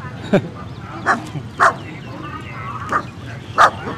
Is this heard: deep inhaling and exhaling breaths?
no